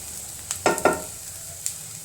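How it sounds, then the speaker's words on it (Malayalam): Fish curry masala frying in a pan is stirred, a quiet sizzle broken by two or three quick scraping strokes of the spoon near the start. "അപ്പോൾ സമയം വരെ നമുക്കൊന്ന് ഇളക്കി കൊടുക്കാം കേട്ടോ"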